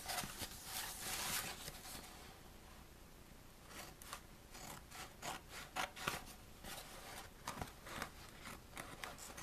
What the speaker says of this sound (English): Get your scissors and cut it.